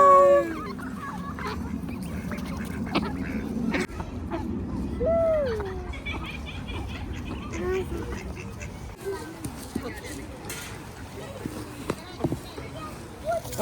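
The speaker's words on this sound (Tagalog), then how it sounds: "Hi, Duck!" Duck quacking outdoors in nature, brief nasal calls popping up over a steady background with people talking nearby throughout.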